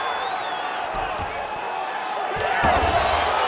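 Simulated arena crowd in the UFC 5 video game, cheering as bantamweight fighters return to their feet after a long grappling exchange; a steady roar sits under a commentator's voice and swells toward the end.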